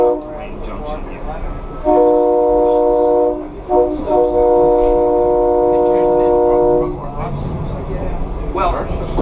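A SEPTA Silverliner V commuter train runs along the Main Line, its loud sustained horn-like tones sounding in two long blasts over steady rumbling rail noise, with voices faintly in the background.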